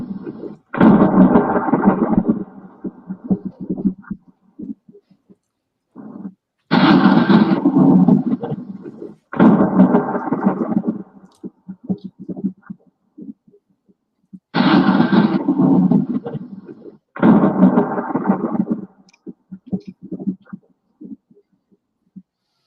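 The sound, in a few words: thunder sound effect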